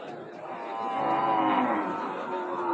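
A Sahiwal bull lows in a long drawn-out moo, fairly close, over a murmur of background crowd noise at a cattle market.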